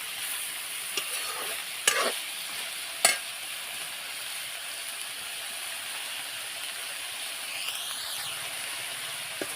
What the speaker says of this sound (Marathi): शिमला मिरची त्याला परतून घेते